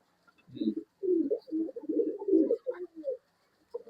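Pigeons offered for sale in Bangalore coo close by in a series of soft, throaty bursts, with a few short pauses between phrases and a faint chirp or two above.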